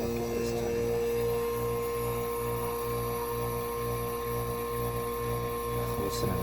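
A Kenmore dehumidifier's compressor motor runs close by with a steady, loud electrical hum and drone, a faint rhythmic pulsing under the tone and no talking.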